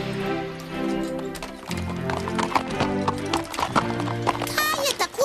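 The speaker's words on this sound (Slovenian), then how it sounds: "Kaj je tako posebnega, če 2 konja hodita skupaj?" Two horses walk together with a steady clip-clop of hooves, and a high whinny rings out near the end amid other sound.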